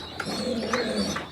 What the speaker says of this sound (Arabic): الحمام اللي انا بتصور بيه ده